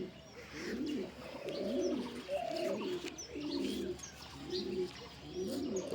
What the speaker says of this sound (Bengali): অনেক বড় কবুতর এবং গেটআপ সুন্দর।